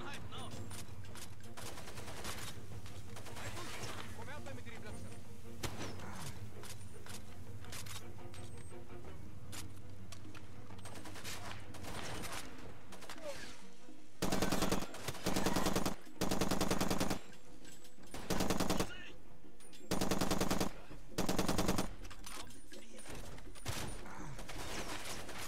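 Weapon fire in Far Cry 2 crackles in loud, clipped bursts of automatic shots in the second half, over a steady game soundscape, with a voice talking at times.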